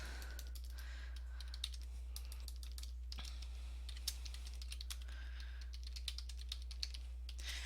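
Fingers type steadily on a computer keyboard to enter a journal entry, a quick, continuous patter of light key clicks over a constant low hum.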